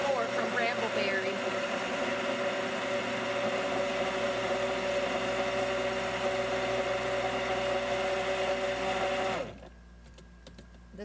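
A stick blender runs steadily at close range with a loud, continuous motor whine for about nine seconds, then cuts off abruptly into near silence.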